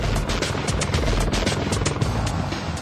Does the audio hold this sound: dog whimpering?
no